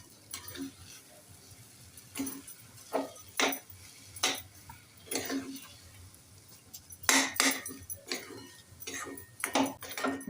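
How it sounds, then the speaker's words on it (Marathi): Mango sheera of mango, sugar and cardamom stirred in a pan: irregular metallic scrapes and clinks of a spoon against the pan, coming in short separate strokes over a quiet background. "छान एकदा मिक्स करून घेऊया।"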